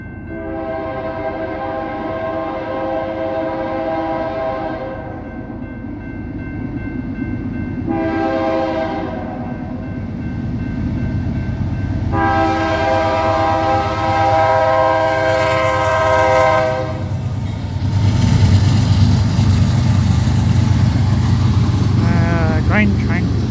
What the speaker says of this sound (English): Northbound freight train going through.